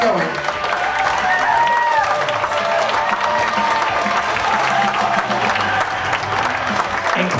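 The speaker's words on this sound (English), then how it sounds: "Please keep your applause going." Continuous loud applause for a newlywed couple at a Gloucester harbor tavern wedding reception, steady clapping from many guests with scattered cheers and voices mixed in.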